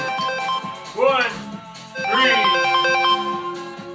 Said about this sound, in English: Let me cancel the phone call.